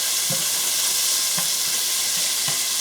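Peppers and onions sautéing in a single pot for a spicy macaroni and cheese, a steady bright sizzle with a few soft stirring thumps spaced about a second apart, no talking.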